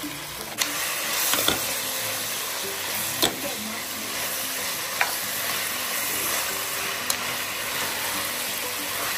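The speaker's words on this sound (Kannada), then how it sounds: "ಅವರೆಕಾಳು ಹಾಕ್ತಾಯಿದ್ದೀನಿ." Tender avarekalu beans frying in a pan with tempering, a steady sizzle throughout, punctuated by several sharp clinks and scrapes of a spatula stirring against the metal.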